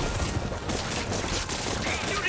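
In the Spider-Man PS4 video game, an RPG rocket fires amid dense, loud combat noise. Blasts and gunfire-like bursts fill the full stretch with little pause.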